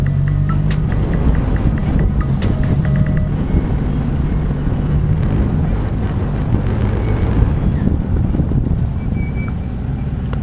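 A formula single-seater race car pulling out of the pits at Silverstone, heard from on board as a loud, steady engine roar with rushing wind noise and no break for about ten seconds.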